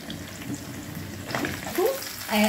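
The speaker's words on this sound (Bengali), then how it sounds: "এবারে আমি আমগুলো ছেড়ে দিচ্ছি। আমগুলোকে আমি খুব সুন্দর করে কষাবো।" Mango pieces dropped into hot oil with panch phoron and dried chilli for a sweet mango pickle, giving a close steady frying hiss that swells near the end with a few stirring sounds.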